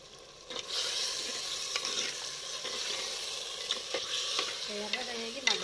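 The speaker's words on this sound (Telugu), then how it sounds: "ఎర్రగా వేగి మగ్గాలి కొంచెం, ఇంకొక 10 నిమిషాలు." Chicken curry sizzles and fries steadily in a pan, with a utensil stirring and scraping in repeated strokes close by, no talking.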